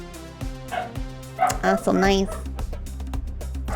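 A pet dog barks repeatedly indoors, set off by snowmobiles passing outside; loud, close yips and barks cluster in the middle under ongoing talk and game music.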